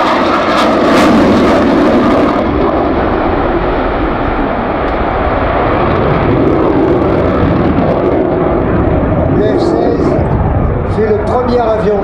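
Belgian Air Force F-16 fighter jet from the 349th/321st squadron flying a solo air display, a loud continuous jet engine roar filling the air throughout, with a commentator talking over it.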